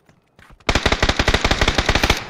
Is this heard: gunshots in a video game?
yes